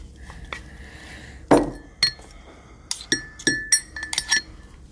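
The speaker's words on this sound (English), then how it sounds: "so you're going to stir that up, and you are going to have your pizza crust right there in the bottom of your mug." Glass mug clinking as a spoon stirs olive oil into pizza crust mix, a few sharp near taps and scrapes spaced out, with one louder knock partway through.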